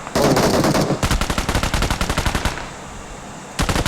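Rapid automatic gunfire in a shooting video game, a dense burst of loud close rounds that thins into a steady rattling string, stops briefly, then resumes.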